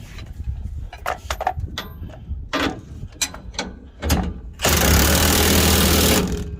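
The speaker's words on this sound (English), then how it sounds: "Take our 22mm, put that back on, and we'll tighten down the bottom of our shock extender" A 22mm wrench tightens the bottom nut of a rear shock extender on a 2018 Silverado truck, giving a run of separate metallic ratcheting clicks followed by a louder, continuous grinding burst.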